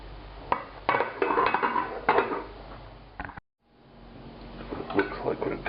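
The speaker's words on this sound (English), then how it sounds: "And the lid goes back on and it goes back into the oven." A lid goes back onto a daube pot layered with potato and carrot, with a couple of close metallic clanks and knocks while someone talks, then a brief silence before more handling noise.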